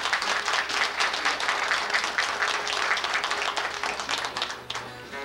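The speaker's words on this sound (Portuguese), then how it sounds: "À viola, Jorge Silva, para quem peço uma salva de palmas." A live audience at a folk singing event applauds a viola player, a steady, fairly distant wash of clapping lasting about five seconds before tapering off.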